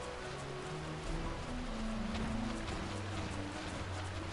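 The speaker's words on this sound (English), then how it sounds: "I can't because there's so much rain." Steady rain pours in Final Fantasy XII, a dense, even hiss that lasts throughout, with soft game music tones beneath and no talk.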